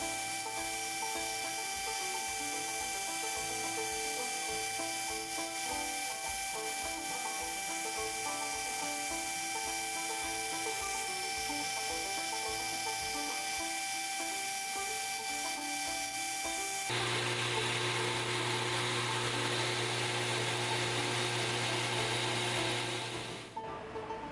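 Steady grinding or rasping from a power tool smoothing the edges of a knife sheath runs continuously, then shifts to a louder, harsher whir before stopping.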